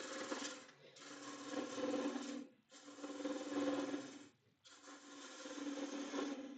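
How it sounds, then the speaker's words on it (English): A bow gouge cuts wood shavings in three long, steady rasping strokes separated by short pauses, close and fairly quiet with no talking. "Bow gouge."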